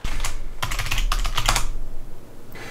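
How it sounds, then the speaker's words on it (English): Typing on a computer keyboard to enter a restart command on a Raspberry Pi webcam server, a close burst of clustered key clicks followed by a brief pause and one more tap. "We can just try it by typing restart."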